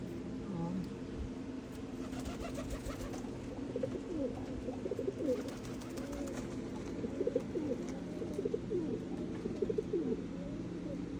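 Pigeons cooing repeatedly in soft, throaty warbles over a steady background hum, with occasional distant traffic.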